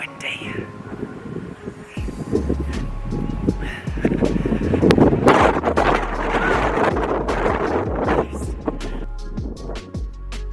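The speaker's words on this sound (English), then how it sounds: "It's just a bit windy." Gusty wind buffets the microphone outdoors, rumbling in uneven low bursts that swell and fade while a person talks over it.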